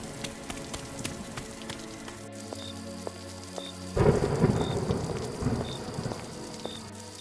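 Steady rain patters on a surface, with a rumble of thunder and a heavier gust of rain partway through.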